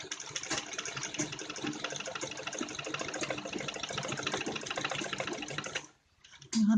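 A sewing machine runs steadily, stitching a straight seam along the curve of a necklace-style neckline, a continuous close, even whirring for about six seconds before stopping abruptly, followed by a brief quiet pause.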